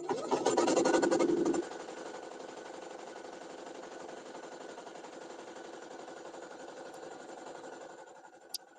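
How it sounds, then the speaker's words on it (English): An embroidery machine lays down a placement stitch in a home crafting setting: a louder burst of rapid mechanical stitching at the start, then a steady, quieter whirring hum that runs on alone with no voices. "Next step is to put that placement stitch down."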